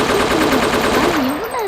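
Rapid automatic gunfire rattles in the video game Chicken Gun, a fast, even burst heard up close over a droning hum.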